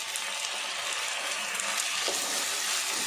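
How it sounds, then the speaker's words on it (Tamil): Chopped tomatoes frying in a pan for a potato gravy, a continuous soft sizzle and crackle of oil that stays even throughout, close by, with no talking. "இந்த தக்காளி நல்லா வதங்கி வரட்டும்"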